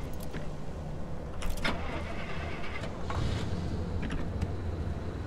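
A car engine in the video game Pacific Drive cranks and catches, a near, rough mechanical rumble with a few sharp clicks and whirring bursts over a steady low drone.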